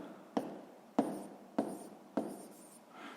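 Pen writing by hand on paper while filling in a math table, four quiet distinct scratchy strokes in an even rhythm, close and alone.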